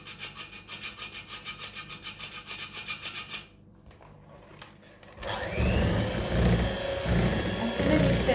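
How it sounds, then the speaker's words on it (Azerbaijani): An electric mixer on its lowest speed works cocoa flour into cake batter for a Praga torte, a rhythmic pulsing whir at first, then a brief lull before a louder, thicker churning drone. "Mən isə mikserin ən yavaş kodunda eləyirəm"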